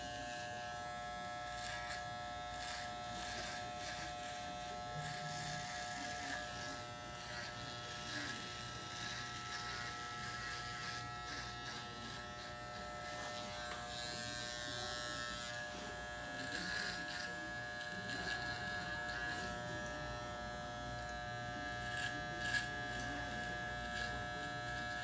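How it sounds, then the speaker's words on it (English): A T-outliner hair trimmer buzzes steadily and close by while trimming short hair, a continuous high electric whine that holds nearly unchanged throughout with no talking over it. "I'll be using the T-outliner."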